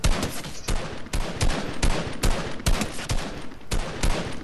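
Rapid bursts of Fortnite gunfire, sharp repeated shots in quick rhythm with a few heavier blasts, loud and continuous throughout.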